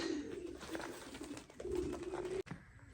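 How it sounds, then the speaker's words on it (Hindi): Pigeons feeding on spilled food coo in low, repeated bubbling calls close by, with soft shuffling and pecking noises around them and a sharp click near the end. "थोड़े से नीचे गिरे थे, कबूतर खाने आ गए।"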